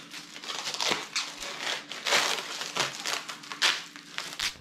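Protective plastic film peels off the glass side panel of a PC case, crackling and crinkling up close in uneven bursts.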